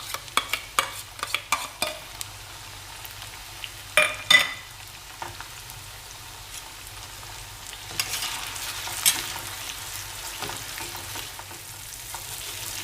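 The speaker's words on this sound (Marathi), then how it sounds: "ही पेस्ट छान भाजून घेऊया ह्याच्यामध्ये." A paste of onion, tomato, melon seeds and cashews fries in a pan for Kolhapuri chicken masala, with a soft steady sizzle and a quick run of spatula scrapes early on, then slower stirring, close up and with no talk.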